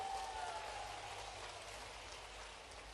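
Applause from an audience at an outdoor political rally, a faint, steady wash of many hands clapping in the distance, with no voices over it.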